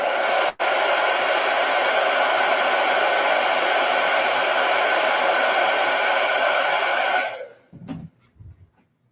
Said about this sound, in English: I'll hit this with a blow dryer.